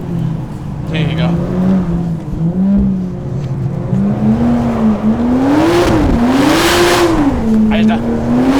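An Aston Martin Vantage engine revs and accelerates hard, its pitch rising and falling in loud sweeping waves close up, with excited voices talking over it.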